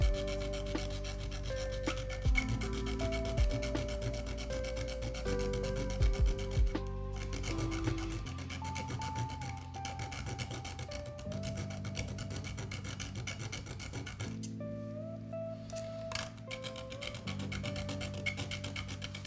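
A keyboard prototype part is filed with a continuous, scratchy rasping that goes on under steady background music with held tones.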